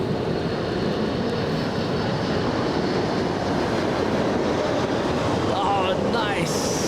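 A Boeing 747 arriving at LAX from Tokyo Narita during stormy Tropical Storm Hilary weather, its steady broadband jet roar filling the scene continuously, with rain-like hiss and a faint voice speaking over it.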